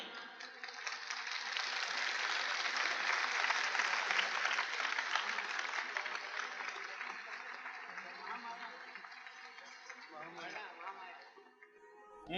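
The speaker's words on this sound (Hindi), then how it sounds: "आप लोग सब तालियां बजाइए" An audience claps steadily and continuously at a devotional gathering before a bhajan, the applause swelling in the first few seconds, then thinning slightly and tapering off toward the end.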